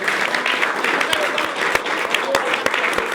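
Studio audience applause on a French talk show set, a dense steady patter of clapping with sharper individual claps standing out, heard close and fairly loud alongside some voices.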